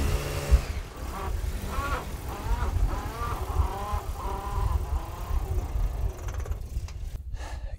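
A car revs and accelerates over sand into a desert campsite in Mauritania, its engine rising and surging close by for several seconds before dropping away near the end.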